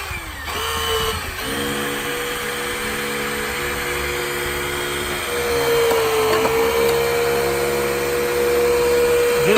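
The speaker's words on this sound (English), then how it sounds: "I'm gonna take the cutters and do a little bit more right there in that area." Hydraulic rescue cutters work on a car dashboard during an extrication, giving a loud, steady mechanical whine and hum that continues throughout, with the pitch shifting partway and rising slightly in loudness toward the end.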